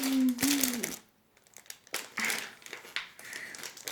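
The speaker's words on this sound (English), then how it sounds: "I'm gonna need scissors, and I'm gonna open these." Plastic packaging around pool toys, a beach ball and a large inflatable tube, crinkled and rustled up close in irregular bursts, with a brief voiced sound at the start.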